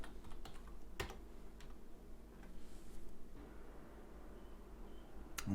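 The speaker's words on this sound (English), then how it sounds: "put the password in" Quiet, close keystrokes on a computer keyboard as a password is entered to log in to a student account, a short run of soft taps with a couple of sharper clicks.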